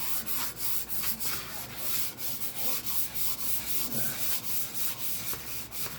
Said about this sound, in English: you want everything sanded with the grain